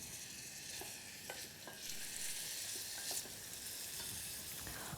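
Chopped onion frying in very hot oil, a steady broadband sizzle running throughout with a few soft stirring clicks, close and alone.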